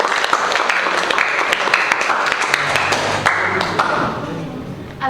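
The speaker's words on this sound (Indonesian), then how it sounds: "Kita berikan aplaus dulu." An audience in a classroom at SMKN 1 Indramayu applauds a group presentation, with a sustained, fairly loud patter of many hands clapping that thins out and fades near the end.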